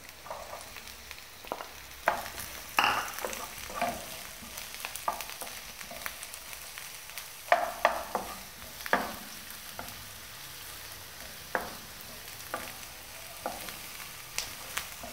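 Finely chopped onions sizzle in hot oil in a pan while cooking Gobi Manchurian, with a steady frying hiss broken by occasional scraping stirs and clinks of a utensil.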